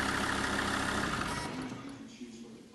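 A SsangYong Rexton engine with a crank sensor fault idles steadily with a rough hum, then dies away, leaving quiet.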